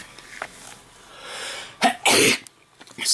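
One sharp, forceful sneeze bursts out close by after a short intake of breath, followed by a brief sniff.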